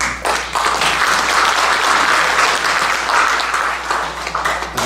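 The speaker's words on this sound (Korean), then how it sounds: "박수를." An audience at an academic conference applauds with dense, continuous clapping that fills the room for about five seconds, loud and close, then eases slightly toward the end.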